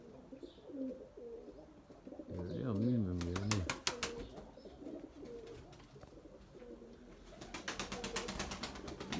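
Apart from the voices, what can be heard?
white tumbler pigeons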